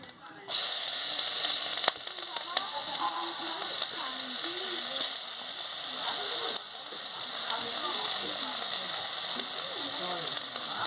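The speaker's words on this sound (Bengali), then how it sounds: "পেঁয়াজগুলোকে ভালো করে ভেজে নেব।" Chopped onions frying in hot oil with black cumin seeds in a pan, giving a loud, steady crackling sizzle that starts abruptly and continues evenly with scattered pops.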